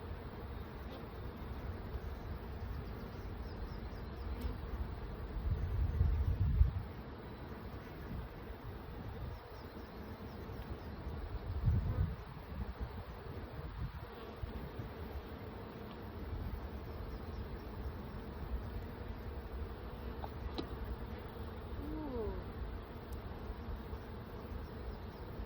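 Honeybees buzz softly throughout a spring hive inspection, a faint continuous hum from the open hive with occasional louder thumps and handling noises from the frames being worked.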